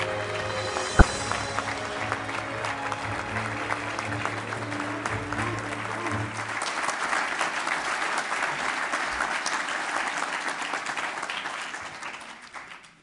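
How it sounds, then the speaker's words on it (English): Big round of audience applause for an award recipient at the American Veterans Center Awards, loud sustained clapping that swells in the middle with some sustained music or tones underneath at first, then tapers off at the close. "let's give a big round of applause for him."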